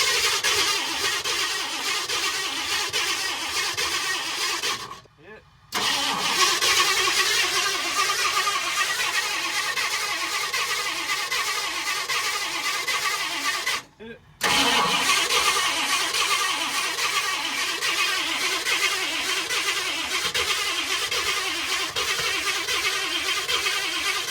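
A 428 engine cranks and fires in a continuous loud, rough running roar, with two brief cutouts where it stumbles before catching again.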